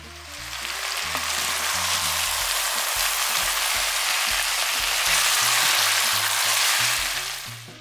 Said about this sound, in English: Now we're ready to add in our potatoes. We'll cook these for about 5 minutes or so.